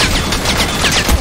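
Rapid bursts of gunfire from the time-loop shooter video game Gate of Lanze (雷能思之门), with dense overlapping shots forming a steady, loud automatic rattle that runs through the whole moment.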